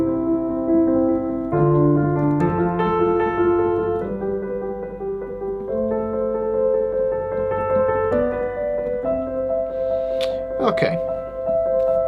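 Sustained piano chords voiced with thirds ring out one after another, each held for a second or two before shifting to the next, forming a slow, smooth progression.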